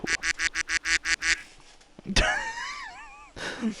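A person imitates a duck quack with a nasal, wavering honk lasting about a second, close and loud. It follows a rapid run of short rhythmic bursts and ends with a brief rough vocal noise.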